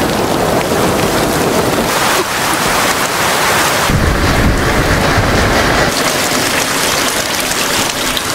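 Steady heavy rain pours throughout with deep rolling thunder swelling in the middle, loud and continuous with no voices.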